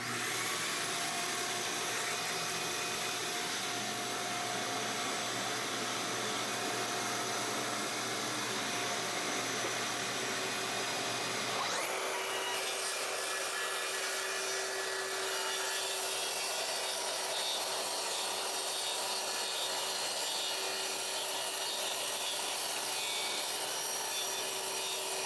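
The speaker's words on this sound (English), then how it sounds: "I'm going to attach this end to my track saw. We're going to make a couple cuts" Track saw cutting wood while a budget shop vac with a dust separator draws off the dust, a loud sustained whine and roar that drops to a lower, steadier drone about midway.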